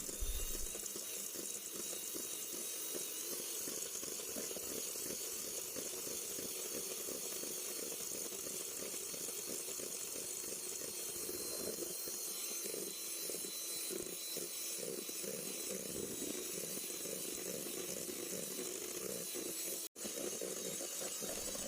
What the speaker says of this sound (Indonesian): Ini bakalan kita mixer hingga kembang